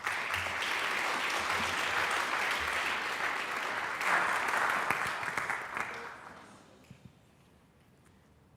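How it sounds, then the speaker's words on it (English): TEDx Eastchester audience giving a speaker named Maggie a big round of applause, a dense, sustained crowd clap that swells, then fades out, leaving a few stray claps and near silence. "A big round of applause for Maggie"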